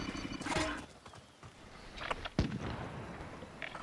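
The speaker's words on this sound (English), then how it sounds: "I can hear shooting towards hotel" Gunfire crackles off in the distance of a Call of Duty match, a few sharp bursts and pops scattered among rumbling background noise, fairly faint, with no one talking.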